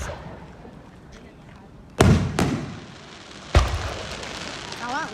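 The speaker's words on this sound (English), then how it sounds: "Fireworks are amazing." Fireworks burst at a Niagara Active Hose Co display: two loud booms close together, then a third heavy bang, each trailing off into crackle, with a whistling rise at the end and people murmuring between shots.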